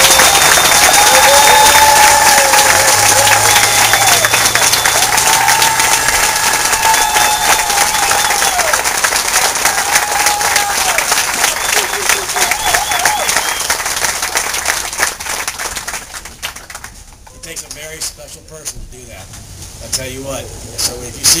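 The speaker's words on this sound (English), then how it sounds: "I really want to give a round of applause for Judge Richardson" Loud, sustained audience applause with scattered cheers for Judge Richardson fills a room, holding steady before tapering off, with faint voices audible as it fades.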